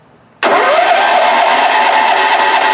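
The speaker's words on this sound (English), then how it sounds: "Let me apply 12 volts here, and we should be hearing it crank." A Wheel Horse 416-8 lawn tractor's small engine, fed 12 volts, abruptly starts cranking after a moment of quiet, then a steady loud mechanical whirr continues close by without stopping.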